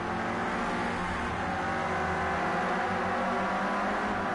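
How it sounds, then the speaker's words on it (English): Several Renault Clio Cup race cars in Project Cars 2 running close together on track, a steady dense engine drone and road roar filling the whole stretch without pauses, loud and continuous with no talk. "There are four cars battling out for second place now."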